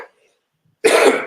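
A single short, harsh cough close to the microphone, following a faint trailing voice and a moment of silence.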